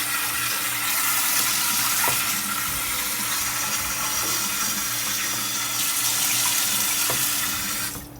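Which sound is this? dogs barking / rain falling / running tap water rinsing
running tap water rinsing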